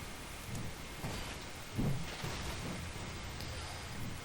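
A lightning rain attack in Totally Accurate Battle Simulator hisses as steady rain with rumbling thunder underneath, swelling into a brief heavier crack partway through before settling back into a continuous stormy wash.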